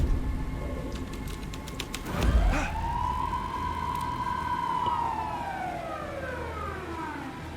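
Police car siren in the video game Alan Wake 2: one long, loud electronic wail that swells, holds, then slowly falls away over a steady background hum, preceded by a brief thump.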